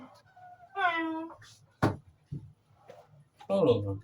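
A person's voice imitates a cat's meow: a drawn-out, tonal meow-like call, followed by a sharp knock and a second shorter call, with quiet background hum between them.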